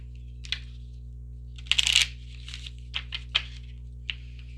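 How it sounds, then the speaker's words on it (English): Tarot cards being shuffled by hand, a near cluster of soft riffling flutters followed by scattered light card taps and snaps, faint and alone against a steady low electrical hum. "Let's start over here with this shuffle."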